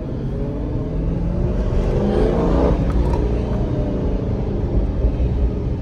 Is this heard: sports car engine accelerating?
yes